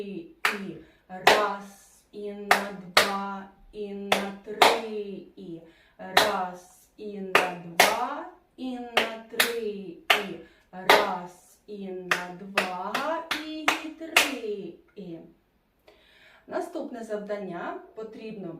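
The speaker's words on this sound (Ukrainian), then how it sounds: "Дивись уважно в зошит і плескай разом зі мною." A teacher claps a dotted rhythm during a solfeggio lesson, sharp close hand claps spaced in an uneven long-short pattern and sounding under and between her spoken counting throughout.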